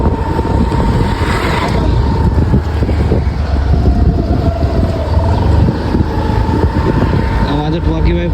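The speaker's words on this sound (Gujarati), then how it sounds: "એક્ટિવા એટલે એક્ટિવા લઈને જ દોડીએ" A Honda Activa scooter is ridden along a village road, its engine droning steadily under loud, constant wind rushing past the microphone.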